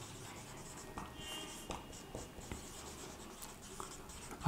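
A pen writing a journal entry on paper, with soft scratching strokes and small taps heard up close at a low level and no one talking.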